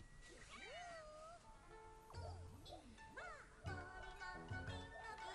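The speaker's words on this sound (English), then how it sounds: "See, these cats can be cute" Cartoonish cat meows and chirpy vocal calls from the video game Monster Hunter Rise rise and fall in quick succession over soft game music, quiet and clear.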